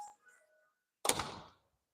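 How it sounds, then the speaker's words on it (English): A showroom door from a window and door maker is pushed shut with a single solid thunk about halfway through, after a few faint soft clicks and a moment of near silence. "let me close the door"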